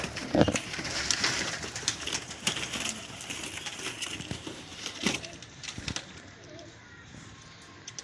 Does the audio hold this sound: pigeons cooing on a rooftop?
yes